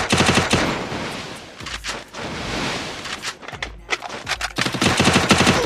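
Rapid automatic gunfire from a shooting video game, with dense bursts at the start and end and scattered single shots and quieter gaps in between, loud and close.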